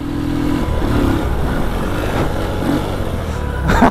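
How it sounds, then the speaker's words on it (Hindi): A superbike idles and revs at close range in a busy outdoor gathering of bikes, its engine note rising and falling steadily for a few seconds with a sharp rev burst at the end. "गाइस सुपर बाइक राइड कर रहा है भाई तुम्हारा।"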